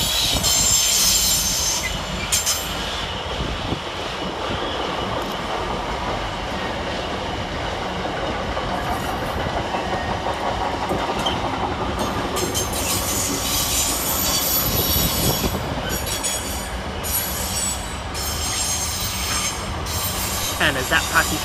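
Freight train hauled by locomotive 66778 passing through Nuneaton station, a steady loud rumble of wagons with wheel squeal and rail noise throughout, briefly brighter hissing near the end.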